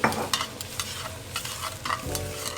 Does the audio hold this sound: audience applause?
no